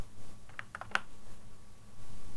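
A few quiet, sharp clicks from a computer keyboard form a short uneven burst of typing into a Microsoft Access input form, then the keys fall silent.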